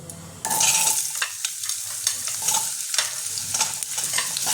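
Diced potatoes hit hot oil for Bengali khichuri, a loud sizzle that starts abruptly and keeps crackling close by, mixed with stirring scrapes.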